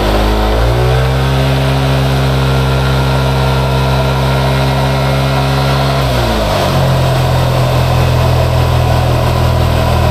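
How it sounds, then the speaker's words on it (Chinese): A modified RTS 135 scooter with an upgraded transmission revs hard on a dyno during a horsepower test, its engine holding a loud, steady high-rpm drone for several seconds before dropping and settling into a lower roar. "那我们现在锁好要上去测马力"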